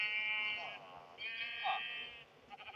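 Repeated sheep bleats from a blocky Minecraft-style knockoff video game, two or three long wavering cries in a row, fairly loud and close, with no talk over them.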